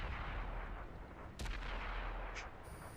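Tank gunfire in World of Tanks, with a sharp blast standing out over steady low battle rumble and a short later report, loud and close with no talk.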